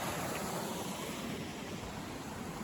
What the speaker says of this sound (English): So this is the big river.